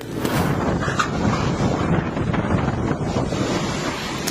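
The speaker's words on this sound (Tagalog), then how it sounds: "pinatumba ng malakas na hangin na dulot ng bagyo" Strong, steady typhoon wind roars and buffets the microphone continuously in Cagayan, Philippines, with a broad rushing noise and no voices.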